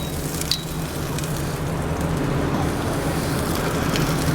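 A steak sizzles on a sizzle platter inside a hot pizza oven with the flame up, giving a steady, dense crackling hiss with faint pops, continuous and close throughout.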